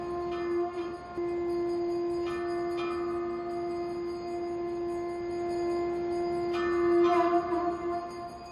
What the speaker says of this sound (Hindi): शंख की गूंज आपको सुनाई दे रही है, घड़ियाल की ध्वनि सुनाई दे रही है